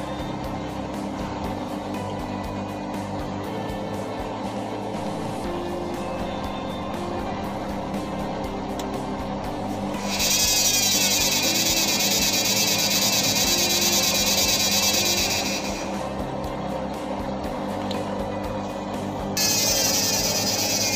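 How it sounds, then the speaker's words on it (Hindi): An IFB front-load washing machine spins with its old motor on a long spin drive: a steady, close mechanical hum that swells into a louder, hissing whir midway, eases back, then rises again near the end. "अभी हम लोग पुरानी मोटर लगा देते हैं, bye bye. Old motor long spin drive."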